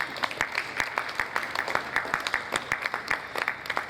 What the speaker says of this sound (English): a round of applause for QF Talali as they come up the stage